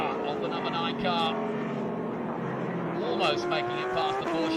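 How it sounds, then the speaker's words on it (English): The number 9 Trans Am race car roars past at Mid-Ohio, a loud sustained engine note rising and falling through gear changes, with other cars audible. "Look at the power of the number 9 car."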